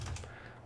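Keys clatter briefly on a computer keyboard as a Linux terminal command is typed on Fedora, a short close burst of tapping with no voices.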